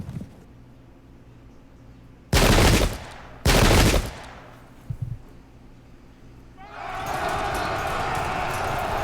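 Musket volleys crack out in the Pike and Shot strategy game, with two loud, broad bursts of gunfire close together, a short clatter after them, and then a sustained crowd-like roar of battle noise.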